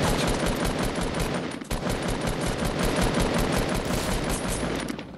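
Fortnite Battle Royale gunfire: sustained rapid automatic bursts, dense and continuous for several seconds with a brief gap, moderately loud and somewhat distant.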